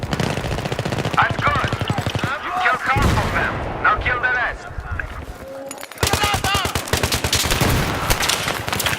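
Battlefield 3 gunfire crackles in loud rapid bursts with booming reports, broken by a brief lull midway before the shooting resumes, while players talk excitedly over the action.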